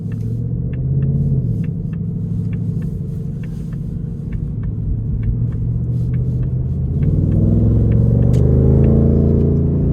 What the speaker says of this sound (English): there's just something about this 5-liter V8